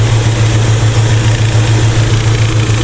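A V8 engine in a Chevrolet El Camino, starting for the first time in years, idles with a loud, steady low rumble and throbbing pulse close by, vibrating continuously with no talk.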